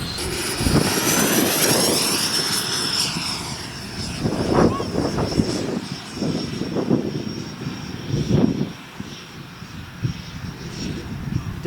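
An RC F-35 model jet powered by a 100mm Midifan Evo electric ducted fan flies past, its steady whooshing whine rising and falling as it passes, with a high tonal whistle and breezy outdoor noise throughout.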